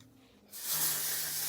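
Texture spray misted onto curled hair, a short steady hiss starting after a quiet moment and holding for about a second, close and soft.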